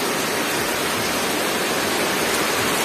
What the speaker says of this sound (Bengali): কত জোরে বৃষ্টি হচ্ছে দেখ খালি খালি।